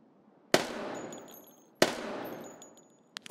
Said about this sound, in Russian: Вот, смотрите, я сейчас стреляю рядом с ним.